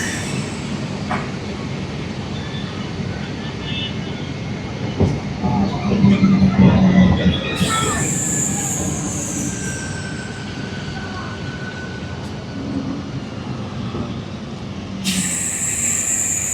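The Guntur–Repalle MEMU train rolls along the rails with a continuous loud rumble and rhythmic wheel clatter, a brief metallic squeal rising midway and short hissing bursts recurring.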